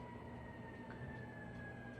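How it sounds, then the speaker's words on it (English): A faint, distant siren holds a steady, slowly falling tone for the whole two seconds, low in level beneath a soft background hum, with no talking. "What is this siren?"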